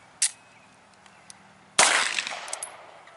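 A late-war Walther P38 pistol fires nearby outdoors: a sharp crack early on, then after a pause a louder report with a ringing echo that decays over about a second.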